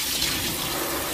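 A newly installed single-lever kitchen faucet with sprayer runs water in a steady, close, hissing stream into the sink, unbroken and without talk.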